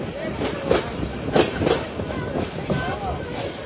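The Titas Commuter train rolls along the rails in Bangladesh with a steady rumble and rhythmic clickety-clack of the wheels, heard from inside the carriage along with occasional faint squeals.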